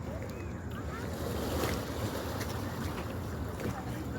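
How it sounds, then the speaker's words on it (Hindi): Sea water moving beneath a seaside deck at night on the Jeddah coast, a steady broadband wash of waves mixed with wind buffeting the microphone, continuous and fairly close throughout. "ये पानी की आवाज़ भी आ रही है"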